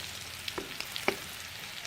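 Garlic frying in butter in a pan gives a soft, continuous sizzle at moderate loudness. A few faint pops and spoon scrapes from stirring come through near the start.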